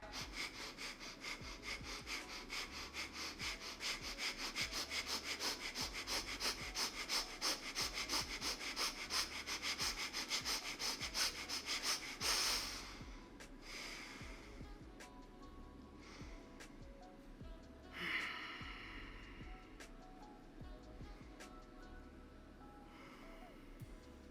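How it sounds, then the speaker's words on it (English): Guided breathwork, with slow, audible breaths drawn in and let out close to the mic: one long inhale gives way to a softer, airy exhale, then another rise, all quiet and without talk. "So first we breathe in and exhale."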